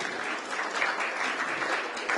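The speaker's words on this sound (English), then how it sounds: "Can we please have a huge round of applause as we welcome him?" An event audience in Delhi applauds the ACMA president as he is welcomed on stage, a steady, fairly distant round of many hands clapping without pause.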